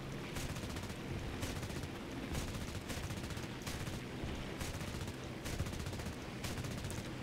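Machine guns of a Soviet plane firing in War Thunder, four 7.62 mm guns chattering in steady rapid bursts over a constant engine roar, regularly pulsing throughout with no talking.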